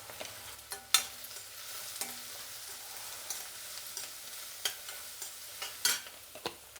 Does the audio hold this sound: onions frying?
yes